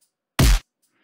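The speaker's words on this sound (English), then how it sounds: "It's this really horribly distorted snare," A single heavily distorted snare drum hit sample, used in a loud mix, bursts out as one short, harshly clipped, full-band crack lasting about a fifth of a second, loud and isolated, with silence before and after.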